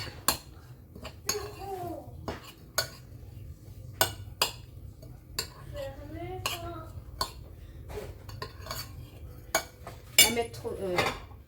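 Ingredients are stirred with sunflower oil in a bowl, with a spoon or whisk clinking and tapping repeatedly against the sides at an uneven rhythm. A person speaks intermittently over the quiet mixing.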